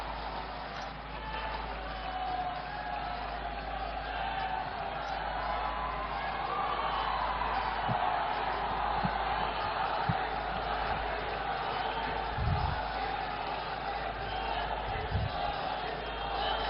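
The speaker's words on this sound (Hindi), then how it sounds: "भागलपुर की एक एक जनता ताली बजाकर स्वागत करें प्रधानमंत्री नरेंद्र मोदी जी" A large crowd at a 2020 Bihar election rally in Bhagalpur roars in a continuous distant wash of cheering and clapping to welcome Prime Minister Narendra Modi, with a few sharper bursts of applause near the end.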